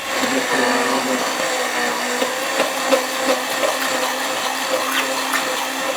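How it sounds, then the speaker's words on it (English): A blender purees caramelized butternut squash with a loud, steady whir that churns on without a break, picking up brief sloshing surges from the thick mixture. "Now we're going to just puree it."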